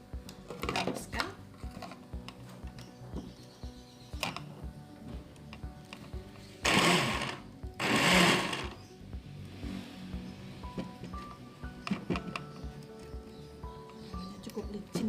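Plant ingredients are ground to a paste for a homemade botanical pesticide, with repeated scraping, knocking and clattering of a grinding tool against a bowl, two louder bursts of rough grinding in the middle, and a voice speaking at times.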